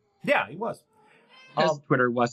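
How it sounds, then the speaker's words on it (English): A cat gives a brief meow at the start, followed by close indoor conversation from people talking. "That's a cat."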